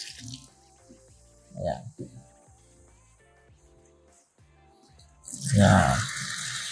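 Water drains from a filter tube of a sink-type Aqua Theo Semter water purifier, with a few small drips and then a sudden rushing gush near the end. A voice speaks briefly.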